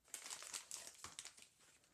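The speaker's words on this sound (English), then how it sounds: "Looks like there's a little tear thing right here, so I'll tear that open." A plastic bag holding a set of runes, packed in a God of War PS4 Stone Mason Edition box, being torn open by hand: close, quiet crinkling and ripping in short irregular bursts lasting about two seconds, no voices.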